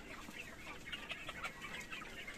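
A crowded flock of about 1,200 farmed chickens keeps up a continuous murmur of clucks and short calls, fairly faint and evenly spread, with no speech.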